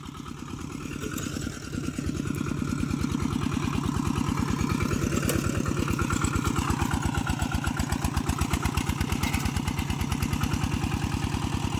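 A tractor engine labours steadily while ploughing a hard field, a loud continuous mid-pitched rumble with rapid regular firing pulses and slight swells in load, close by and alone.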